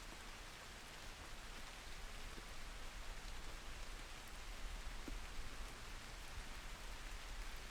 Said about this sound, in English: The rain. I was so buried in my screen I didn't notice it had gotten this heavy.